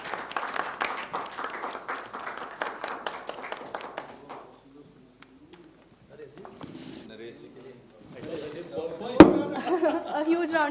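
Audience applause at an award felicitation ceremony during a business conference: several seconds of brisk clapping from a modest crowd that fades out, followed by a quiet lull, talk and a sharp bang.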